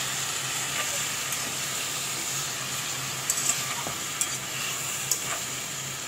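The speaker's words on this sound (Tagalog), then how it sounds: "Ilagay na natin itong tomato. Okay. Igisa tayo." Tomato sautés in a pan for a pork soup, with a continuous soft sizzle and hiss broken by a few sharp utensil scrapes and taps toward the end.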